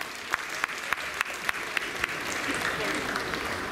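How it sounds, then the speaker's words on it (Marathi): An audience at the inauguration of the All India Marathi Natya Parishad applauds, starting with a few sharp, evenly spaced individual claps that swell into a sustained wash of clapping from a crowd. "टाळ्यांचा कडकडाट"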